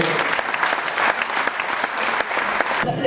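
A crowd applauds steadily and fairly loudly for a few seconds, the clapping ending abruptly.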